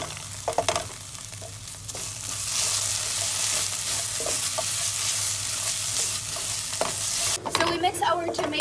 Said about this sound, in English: we mix our tomato paste with the onions and the garlic, and we just mix it around for about 2 minutes